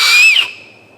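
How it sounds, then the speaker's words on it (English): A single loud, shrill whistle made by blowing across an acorn cap cupped between fingers, a piercing wavering tone that slides and then fades quickly. "if you put it between your fingers in a special way and cup it and put it up to your mouth and you know exactly how to hold it, you can make a whistle"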